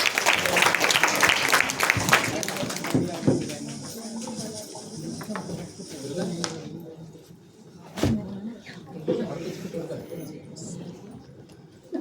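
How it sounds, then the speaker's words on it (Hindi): Applause from an audience at a Hindi literary session on disability discourse, loud and dense in the opening seconds, then thinning into scattered claps and crowd murmur with a sharp knock near the end. "तालियों से"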